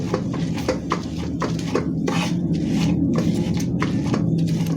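Roasted green chilies are pounded finely for thecha, a village-style chili relish, in a steady rhythm of sharp knocking strikes close up, repeating about every quarter second.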